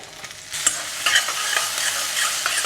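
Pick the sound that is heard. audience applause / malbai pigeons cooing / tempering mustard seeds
tempering mustard seeds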